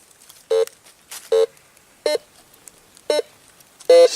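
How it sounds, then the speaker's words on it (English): A metal detector passes back over a freshly dug hole at an old home site, giving five separate short electronic beeps, evenly spaced and loud and clear against near silence. "let's run the detector back over it"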